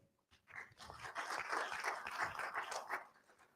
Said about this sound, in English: everyone give them a big clap.